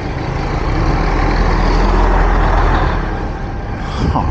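Buses passing close on a city street, a loud continuous rumble of heavy diesel engines and road noise with steady wind-like roar throughout.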